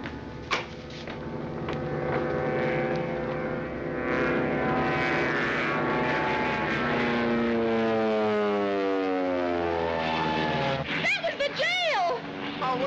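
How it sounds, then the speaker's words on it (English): A propeller airplane, a stolen plane seen in flight before it goes into a dive, drones loudly with a rising and falling engine tone that shifts pitch as it passes, heard under people's voices and ending with a clatter. "That's your plane, Griffith."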